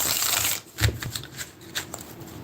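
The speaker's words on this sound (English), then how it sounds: "I'm getting a pre-shuffle going for you guys real quick" A deck of cards is shuffled briskly up close, a dense riffling burst followed by a few softer flicks and taps as the cards settle.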